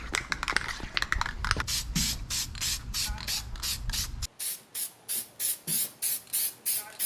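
Spray paint hissing onto a car part in repeated short bursts, first continuous with a low rumble underneath, then a steady rhythm of distinct sprays close by.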